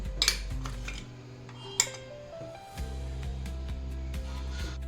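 Spice paste for chicken ghee roast goes into a pan, with a few sharp metal spoon clinks and scrapes against the pan over soft background music.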